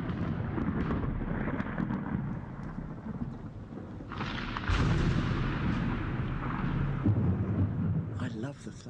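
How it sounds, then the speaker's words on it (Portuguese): Low, sustained rumbling thunder rolls over steady rain-like noise, swelling louder midway and continuing to the end. "Eu adoro o trovão, o ruído do trovão"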